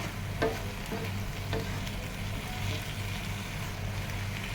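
Jute leaves fry with shrimp in a pan, a steady low sizzle running throughout with occasional soft scraping stirs, faint and close, with no talking.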